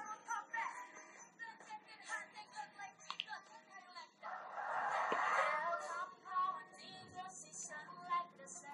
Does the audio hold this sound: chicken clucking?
yes